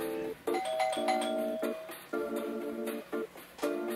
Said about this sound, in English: I think I just heard my doorbell.